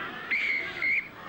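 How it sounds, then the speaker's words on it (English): A referee's whistle at a 2002 rugby league match between New Zealand and St Helens sounds two clear, shrill blasts in quick succession, the first short and the second longer, over a faint crowd murmur. "it's a funny warble with Russell Smith's whistle tonight"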